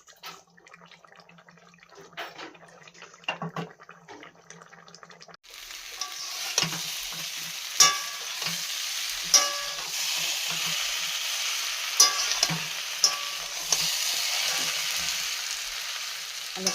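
Potato and pointed gourd curry (alu potol dum) cooking in a pan, first quiet clinks and stirring, then a steady loud sizzle with repeated scrapes of the spoon, close by.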